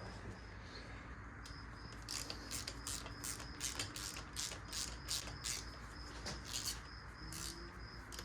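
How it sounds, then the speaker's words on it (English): A ratchet clicks in quick, repeated bursts while spark plugs are pulled from the engine of a seized Mighty Mac 8C skid steer, heard close over steady outdoor background noise with faint birdsong. "It is an awesome ratchet though."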